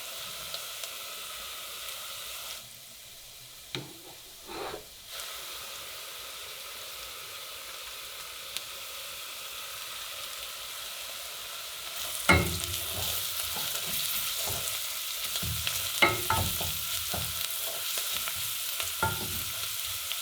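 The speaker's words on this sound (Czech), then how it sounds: "Zeleninu chvilku restuji, potom přidám koření, které taky chvilku restuji." Vegetables for a mushroom and pearl barley soup sauté in a pan with spices, a steady soft sizzle with a quieter stretch early on, then louder frying from about twelve seconds with scraping stirs and clicks of a utensil against the pan.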